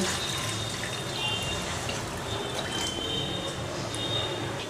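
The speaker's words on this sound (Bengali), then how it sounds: "এবার এর মধ্যে অ্যাড করে দিচ্ছি দু কাপ জল" Two cups of water pour into a cooked-down masala for a Goan fish curry, a steady close liquid splash and gurgle that runs for several seconds.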